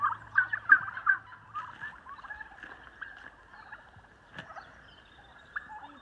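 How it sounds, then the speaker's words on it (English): Bursts of turkey gobbling at the start, fairly close, then fading into a quieter stretch of faint outdoor background noise with occasional soft sounds. "A couple of turkeys."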